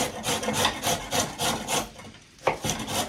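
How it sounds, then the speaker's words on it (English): Carrots grated by hand on a kitchen grater, a steady run of rough rasping strokes close up, pausing briefly before the scraping resumes. "Would you mind grating those carrots for me?"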